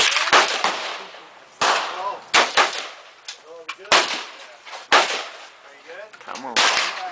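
Gunfire at an outdoor shooting range during a timed drill: a series of loud, sharp cracks with irregular spacing, some in quick pairs, while people talk between shots.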